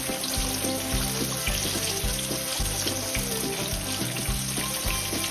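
Green tomatoes fry in hot oil on a stovetop, a loud, continuous crackling sizzle that stays steady for several seconds under a faint kitchen background, with no one speaking.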